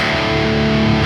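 A single loud, heavily distorted electric guitar power chord sustains thickly and evenly without a break.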